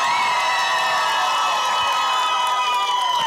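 Outdoor crowd at an open-air karaoke contest on a town square cheers and whoops in support of a finalist, with shrill voices and children shouting over a steady, loud roar that carries on throughout.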